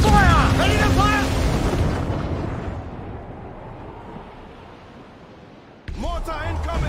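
Ship cannon fire in Assassin's Creed Black Flag: a heavy boom rolls out into a long, fading rumble over a naval battle, with shouted voices before it and again as a fresh burst cuts in near the end.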